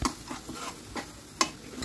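Green chili and garlic paste frying in oil as it is stirred in a pan, with a steady soft sizzle broken by a few scraping stir strokes, close and moderately quiet.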